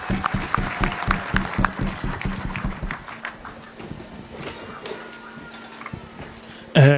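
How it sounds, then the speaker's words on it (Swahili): Crowd applause for a governor at a church gathering, loud and dense rhythmic clapping for about three seconds that thins into scattered claps and murmur, ending with a sudden loud burst. "makofi ya gavana tafadhali"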